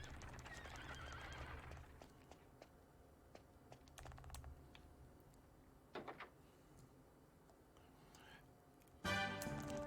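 A horse neighs and hooves clip-clop in the Dragon Quest VIII video game, faint sparse clatters under a low hum, with a brief clattering burst at the end.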